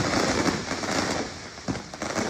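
Fourth of July fireworks at Stanford, set off when lightning struck them, crackle and pop continuously from a distance under a dense, rain-like wash of noise, with a few sharper bursts.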